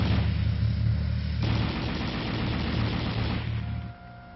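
A 7.62 mm M73 coaxial machine gun on an M60 tank fires one long, continuous automatic burst of rapid, dense reports that holds for several seconds before stopping abruptly.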